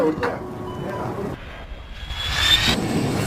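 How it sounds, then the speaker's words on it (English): A zero-gravity parabolic flight aircraft parked on the ground in France gives off a broad, steady jet-engine roar. The whine shifts partway through, with a faint voice in the background. "behind me is a zero-G plane"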